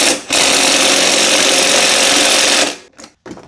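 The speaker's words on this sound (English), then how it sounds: "Chrome socket with the impact go burr" An impact wrench with a chrome socket loosening the cylinder head bolts on a lawn mower engine, one loud continuous buzzing burst of about two and a half seconds right up close, followed by two brief shorter rattles.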